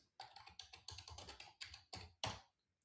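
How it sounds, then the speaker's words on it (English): Rapid keystrokes on a computer keyboard entering a git command, about a dozen distinct taps in quick uneven rhythm, close and fairly quiet, ending with a firmer final key press. "Now if I type git worktree list,"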